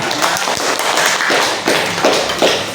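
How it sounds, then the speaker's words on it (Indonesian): A classroom of students in an Islamic religious-education lesson claps steadily after a group presentation, a dense and loud wash of handclaps lasting almost three seconds with scattered louder taps and thuds, and no speech over it. "Iya, tepuk tangan."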